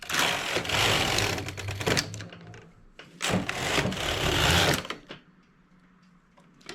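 A domestic knitting machine carriage sweeps across the needle bed from left to right while knitting English rib variations, giving a loud rattling, whirring mechanical run with a brief pause between two passes, then tapering off.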